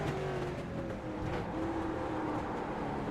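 Street stock race cars at Barber track drone past in a steady, dense engine roar, several motors layered together at moderate distance with no breaks in the sound.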